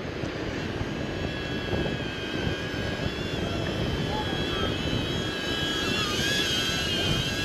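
A Hoverair X1 lightweight drone flying nearby, giving a steady high-pitched propeller whine with a broad airy hiss that stays constant and fairly loud for several seconds.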